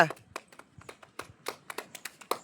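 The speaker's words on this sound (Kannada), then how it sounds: "ಹೊಡೆಯ ಚಪ್ಪಾಳೆ" A few children clap unevenly for the winner of a game they played together, producing light, scattered hand claps in a quiet room with faint voices between them.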